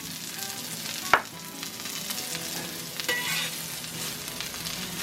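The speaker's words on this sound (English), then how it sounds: "Gonna get my veggies sauteed up" Vegetables for a Philly cheesesteak sauté in a pan with a soft, steady sizzle, broken by two sharp utensil clinks against the pan.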